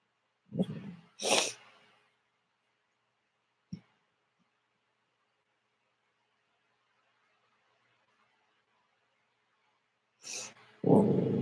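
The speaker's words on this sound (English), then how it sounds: "Julie, my dog's going crazy" A dog named as going crazy gives a few loud, close snorting, huffing bursts near the start, then a single brief snort, then a long quiet gap, with more loud snorts and vocal noise at the end.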